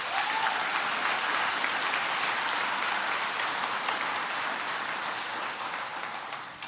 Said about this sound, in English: If you'd please give them a round of applause.